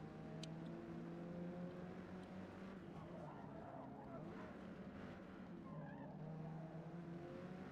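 A Hyundai Veloster N Forza Edition, front-wheel drive, runs in the Forza video game, with a constant engine drone and tires skidding and squealing, fairly faint and continuous throughout.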